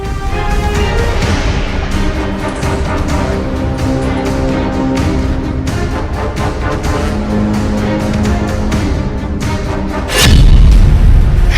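Heavy, continuous rumbling blasts from a Hamas attack on Israeli tanks and armored vehicles, loud and dense, ending in a sharper, deeper boom near the end, with no voices.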